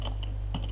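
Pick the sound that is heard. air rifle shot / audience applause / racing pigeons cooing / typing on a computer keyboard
typing on a computer keyboard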